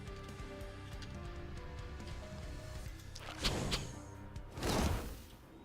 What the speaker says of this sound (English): let's go for a nice rain of arrows over here